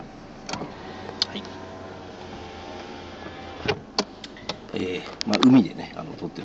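A car's power window whirs shut from inside the vehicle, with several sharp clicks and knocks scattered through and a louder mechanical burst near the end.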